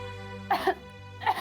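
A woman coughs twice, two short close bursts about a second apart, over a low steady hum, with no talk.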